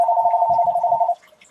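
A phone rings with one steady, sustained electronic tone that lasts about a second before cutting off, loud and close, while muffled low voices murmur underneath.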